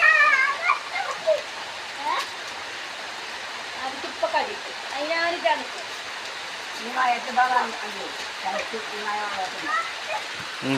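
Steady rain pours outdoors while people play out in it; excited voices and shouts rise and fall over the continuous hiss of falling water.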